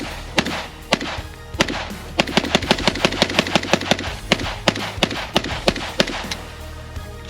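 A ReCreator AK-47 rifle is test fired outdoors, with sharp single shots and then a quick run of evenly spaced rounds before slower shots resume, each one loud and close.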